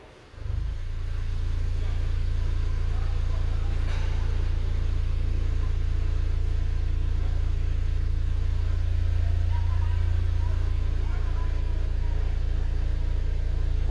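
A Jeep Compass held in reverse gear gives off a deep, steady rumbling vibration that starts abruptly and then drones on evenly and close, with someone speaking faintly over it.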